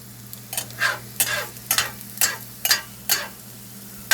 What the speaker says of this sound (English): Like it's frying.